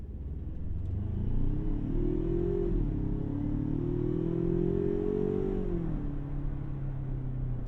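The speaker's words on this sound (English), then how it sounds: "let's slam on that accelerator" A 2020 Ford Ranger Lariat 4x4 pickup revs up from a dead stop, its low drone climbing in pitch as it accelerates, shifts, and climbs again, steady and fairly close.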